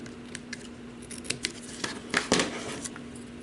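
Scissors snipping paper cardstock while making a candy box on a punch board, a series of short crisp cuts at close range that grow louder toward the end, with no talking.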